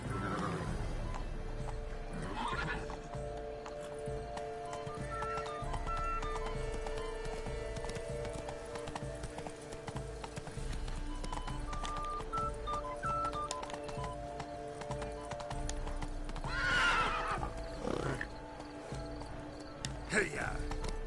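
Horse hooves clip-clopping at a gallop with occasional neighs in The Witcher 3: Blood and Wine, steady hoofbeats under game music and brief character voices.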